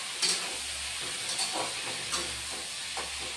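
Okra dusted with a little turmeric powder frying in a pan, giving a steady, moderately quiet sizzle and hiss with a few soft stirring scrapes over a low background hum; no one speaks.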